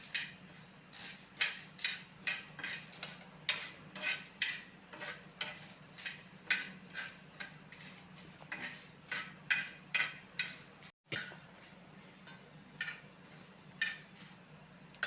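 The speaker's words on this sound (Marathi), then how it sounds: "हे आता आपण 1 मिनिटासाठी चांगलं भाजून घेऊया." Whole pickle spices (pepper, fenugreek, dried red chillies and fennel) dry-roasting for a mango pickle masala, heard as a steady run of sharp rhythmic scraping clicks from stirring in the pan, close and alone, with a brief gap near the end.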